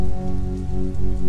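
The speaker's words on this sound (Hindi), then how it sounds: "जैसा कि आप देख सकते हैं कि स्टिल अभी तक बारिश हो रही है" Steady rain falls outdoors at Randall's Island in New York, a loud, continuous wash of drops hitting surfaces, with a low background hum and no voices.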